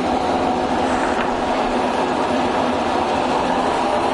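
A Harrison M400 lathe runs at a low spindle speed of about 100 RPM, giving a steady, fairly loud mechanical rumble and whir that holds even throughout with no talk over it.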